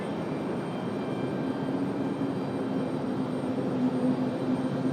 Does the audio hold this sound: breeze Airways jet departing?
yes